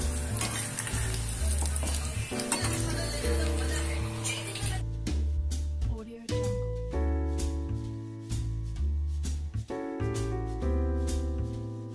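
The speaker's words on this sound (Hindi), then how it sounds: "कोफ्ता फ्राई करने में बस पेन हो जाता है" Kofta for gulab jamun frying in hot oil with a soft, steady sizzle that sits under loud background music and a voice.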